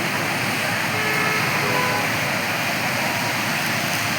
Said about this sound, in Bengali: দেখো কত জল ছেড়েছে আমাদের দুর্গাপুর ব্যারেজে